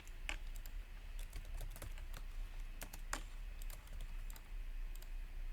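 Rapid keystrokes on a computer keyboard while text is entered for a brochure design in CorelDRAW: irregular bursts of close, crisp clicks with short pauses, steady throughout with no talking.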